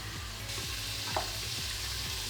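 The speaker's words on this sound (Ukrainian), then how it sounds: "І тушимо 6-7 хвилин," Vegetables for a white bean vegetable soup stewing in a pot with steady sizzling and bubbling, occasional scraping stirs and a soft clink partway through.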